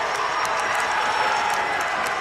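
Basketball arena crowd at a college semifinal, fired up by the coach, roaring in a dense continuous wash of cheering, with faint scattered claps and whoops.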